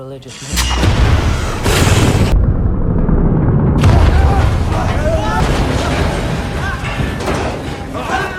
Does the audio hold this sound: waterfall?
no